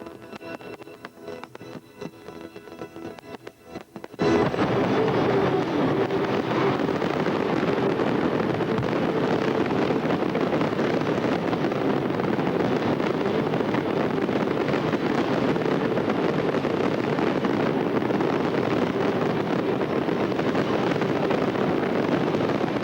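Skyfest fireworks display in Dublin: after a quieter opening, a dense, loud, continuous roar of bursts and crackle takes over and holds steady to the end.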